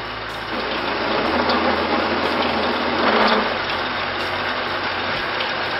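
A metal lathe cutting down a trailer tongue jack tube, a steady mechanical hum of the running machine with a brief louder cutting burst midway, close and continuous without speech.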